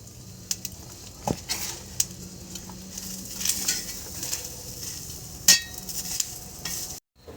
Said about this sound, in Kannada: ಈಗ ಈಗ ಉಳ್ಳಾಗಡ್ಡಿ ಬೆಳ್ಳುಳ್ಳಿ ಹುರ್ಕೊತೀನಿ ಮೆಲ್ಲಕ್ಕೆ